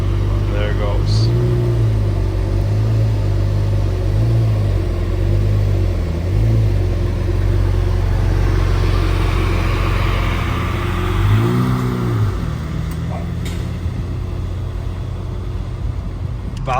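A supercar accelerates away at Monterey Car Week, its engine rising through revving pitch sweeps and then fading, loud and close at first against outdoor crowd noise and talk.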